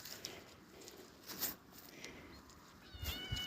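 A cat meows a few times at close range, short calls with a louder one near the middle and another toward the end, over faint rustling.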